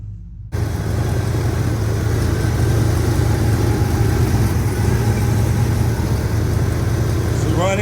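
A 1967 Oldsmobile Ninety-Eight convertible's Buick 430 V8 idles steadily up close after a brief quiet start, a continuous low rumble with an even pulse throughout.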